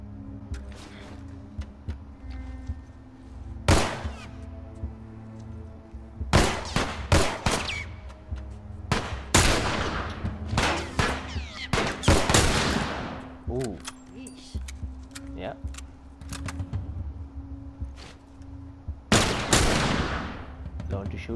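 Bursts of gunfire in The Last Of Us Remastered, set in a university: sharp single shots and short volleys spaced irregularly over steady background music, with a player talking in places.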